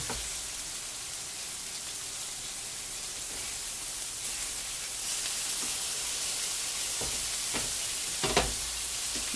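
Meat frying in a pan for a big breakfast bowl, a steady soft sizzle throughout with a few faint scraping or stirring clicks near the end.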